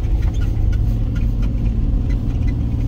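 A 1996 Jeep Cherokee XJ in two-wheel drive pushing through about a foot of snow, its engine a steady loud rumbling drone with slight revving throughout.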